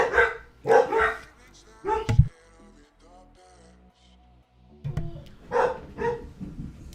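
Several dogs bark together in loud, overlapping bursts, with a pause of quieter sound between the volleys and voices faintly present.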